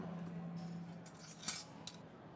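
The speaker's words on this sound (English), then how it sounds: "Now judges, please stir back and forth 7 times and taste twice." Spoons clinking and scraping against coffee cups as barista competition judges stir back and forth, with small, faint metallic taps and a couple of brighter strikes over a low hum.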